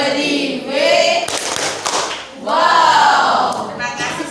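A classroom group claps in short rhythmic bursts between chanted voices, with loud sections of group speech alternating with sharp hand claps.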